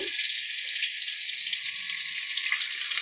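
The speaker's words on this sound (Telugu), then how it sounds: "ఈ వేడెక్కిన ఆయిల్లో ఉడికించి పెట్టుకున్న ఈ రొయ్యల్ని దోరగా వేసుకున్నాము" Prawns and chopped onion frying in hot oil give off a loud, steady hiss that holds evenly throughout, close by and uninterrupted.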